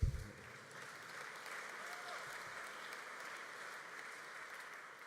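Steady, fairly faint applause from an audience at a city mayor's state-of-the-metro address fills the room, a continuous wash of clapping from a distance.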